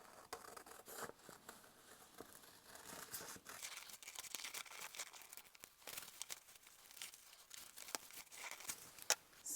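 Scissors cutting paper triangles for a journal page, a quiet close run of snipping, crinkling and rustling strokes in an uneven rhythm.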